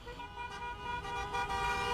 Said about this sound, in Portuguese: Saudação tímida e um buzinaço relâmpago.